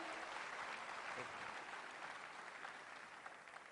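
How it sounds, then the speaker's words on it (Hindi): A crowd at a Delhi business success-day event claps in a dense, soft-edged burst that gradually thins and fades toward the end. "इनके लिए जोरदार ताली।"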